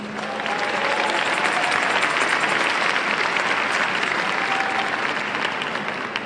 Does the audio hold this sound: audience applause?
yes